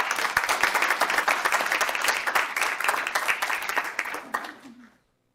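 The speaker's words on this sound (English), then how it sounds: "Let's give her another round of applause." Audience applause at a school board meeting, a dense burst of clapping lasting about four and a half seconds before tapering quickly to silence.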